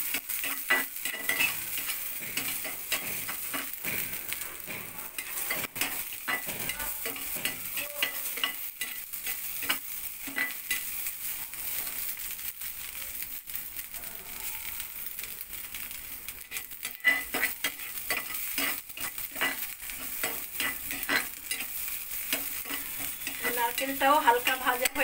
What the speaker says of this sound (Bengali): নারকেলটাও হালকা ভাজা হয়ে গেছে